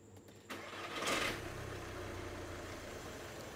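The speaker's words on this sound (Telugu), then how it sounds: "సో నెక్స్ట్ ఇంక ఇంజిన్ అయితే ఆన్ చేద్దాం ఫస్ట్ టైం సర్వీస్ అయిపోయినాక." A Skoda Laura 2.0 TDI diesel engine cranks and fires after a full maintenance service, with a brief surge that settles into a steady, close idle rumble and no talking.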